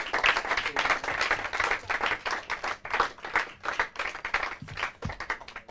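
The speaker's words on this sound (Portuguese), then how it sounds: "Palmas para eles." Clapping from a quiz-show audience for a Portuguese quiz team, a steady dense patter of many hands at moderate level throughout, with no voices over it.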